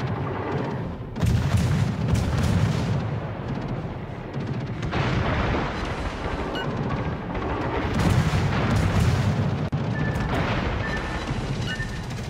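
Continuous heavy naval gunfire and rumbling explosions from a V Nicholas destroyer battle in World of Warships, loud and sustained with booming salvos layered throughout and no talk.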